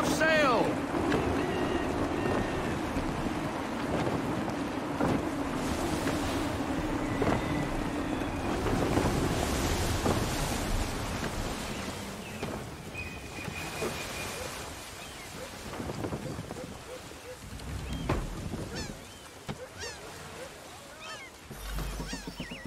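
A sailing ship pushes through gusty wind and waves in Assassin's Creed III, a constant loud rush of wind and water with creaks and faint voices in the background.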